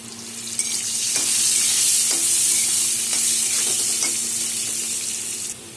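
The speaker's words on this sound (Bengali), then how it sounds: "আলু আমার ভাজা হয়ে গেছে।" Potato pieces fry in a pan with turmeric and salt, giving a steady, close, loud sizzle broken by a few sharp scrapes of stirring; no one speaks.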